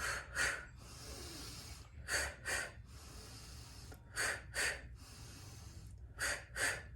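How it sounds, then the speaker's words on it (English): Paired breathing pattern repeated three times: a longer inhale followed by two short, sharp exhales, close and clear with no talking, during a mindfulness breathing practice. "I would breathe in and then do 2 short exhale breaths"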